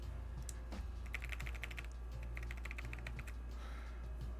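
Rapid clicky keystrokes on a Tess65 mechanical keyboard with new switches and keycaps, a steady run of close, crisp taps with short pauses between bursts, fairly quiet overall and with no talking.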